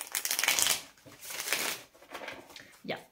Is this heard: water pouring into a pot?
no